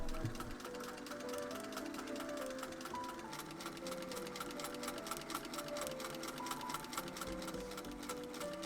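A sewing machine quilts vertical lines along the seams of a patchwork checkerboard jacket, running in a fast, even stitching rhythm with a mechanical whir, steady and close throughout.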